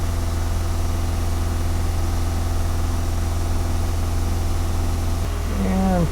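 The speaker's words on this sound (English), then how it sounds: "So we've been idling for 10 minutes." Car engine with an oil-burning problem idles steadily in a low, continuous hum, close and unchanging, with a brief voice sound near the end.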